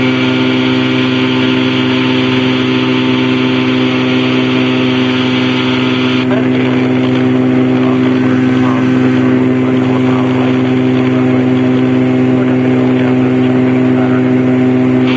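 Challenger II light aircraft engine droning steadily in flight, loud and constant from the cockpit, with a slight change in tone partway through as the throttle eases back.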